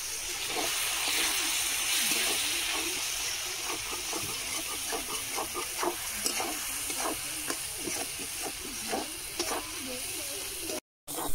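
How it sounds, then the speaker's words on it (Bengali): Frying spice paste as a little water is added for a ghugni, a loud hissing sizzle at first that settles into steady frying with repeated spoon scrapes and stirs, close by. "মশলা তলায় বসে যাচ্ছে, সেই জন্য খুব সামান্য জল দিচ্ছি।"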